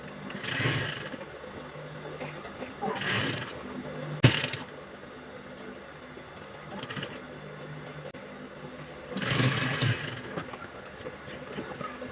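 A sewing machine stitches a corset in bursts, each a few seconds long, separated by quieter gaps, with one sharp click in the middle, all close and without talk.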